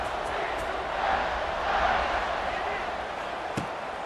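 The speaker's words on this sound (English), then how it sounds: "this crowd is buzzing after that last score" A stadium crowd buzzes after a touchdown in the EA College Football 26 video game, a steady murmuring roar under play-by-play commentary, with a brief thump near the end.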